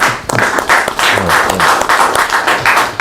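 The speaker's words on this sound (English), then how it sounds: "please round of applause" Audience applause at a media parley with a veteran journalist, dense steady clapping from a crowd that keeps going throughout, with faint voices mixed in.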